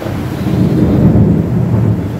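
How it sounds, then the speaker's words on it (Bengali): Thunder rolls through heavy rain as a loud, continuous deep rumble that swells slightly in the middle, with the wash of downpour behind it and no voices. "দেখো বাজে আওয়াজটা শুনতে পাও কিনা"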